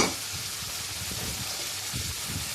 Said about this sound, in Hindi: तो मैं इसी तरीके से फ्राई कर रही हूँ।